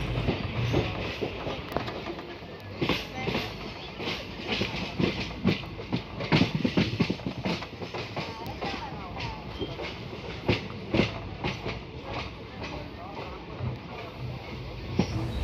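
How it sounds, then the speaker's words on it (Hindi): A train passes underneath on the Lucknow–Kanpur main line, with loud rhythmic clickety-clack of wagon wheels on rail joints and continuous rumbling heard from a moving express train, along with intermittent talk. "हमारे ट्रेन के नीचे से एक ट्रेन जा रही है"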